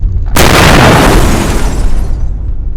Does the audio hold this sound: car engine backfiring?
yes